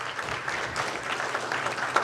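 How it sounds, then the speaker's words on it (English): Audience applause at a school board workshop meeting honoring school principals, a steady wash of many hands clapping at moderate distance throughout, with no talk over it. "go ahead, you can clap"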